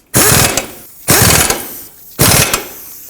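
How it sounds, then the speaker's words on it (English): Three loud, close bursts of a power ratchet or impact tool as ball joint nuts are run down on a 2009–2015 Toyota Prius, each a rough mechanical whirr that lasts under a second. "let's snug these up and then we'll torque them."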